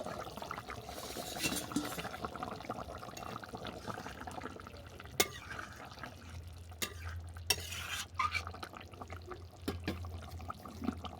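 Rohu fish curry with cauliflower being stirred gently in a pan, with faint scattered scrapes and clinks over a soft bubbling background, quiet and close.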